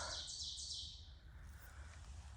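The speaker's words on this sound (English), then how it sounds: "Nice bird singing." A bird sings along the Appalachian Trail near Annapolis Rock in Maryland, a short burst of high chirping trills at the start that fade into faint background hiss.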